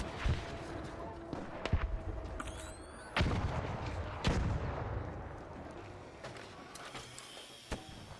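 Gunshots in the video game ARC Raiders crack out in sharp, scattered bursts over a steady background rumble, a few loud reports standing out among fainter pops.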